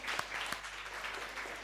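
An audience at a conference demonstration claps for a participant, soft, even applause with a couple of sharper claps near the start, fairly quiet and distant.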